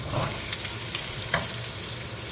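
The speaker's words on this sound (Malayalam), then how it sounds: "നമുക്ക് അതിനകത്തേക്ക് പൊട്ടറ്റോയും ക്യാരറ്റും ഇട്ട് കൊടുക്കാം" Onion sautéing in a pan as potato and carrot go in, a faint continuous sizzle with a few light stirring scrapes and taps, no voices.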